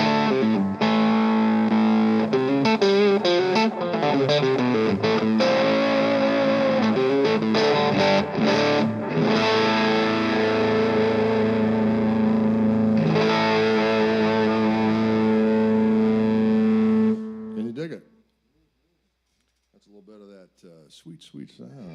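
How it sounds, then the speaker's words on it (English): An electric guitar fitted with new Fishman pickups plays heavily distorted, effects-laden chords and sustained notes for about seventeen seconds, then cuts out into near silence with a brief faint tail. "I did new pickups with Fishman with this guitar. And it is a bad mofo."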